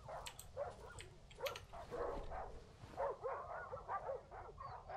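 Several dogs bark and yip repeatedly in Darkwood, a ragged chorus of overlapping barks at moderate distance, fairly faint, with no one speaking.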